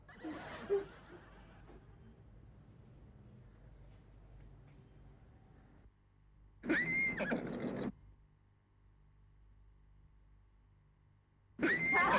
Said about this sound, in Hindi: घोड़े की रिकॉर्ड की हुई आवाज बजा रहे हैं हम लोग